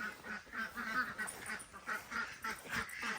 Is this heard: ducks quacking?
yes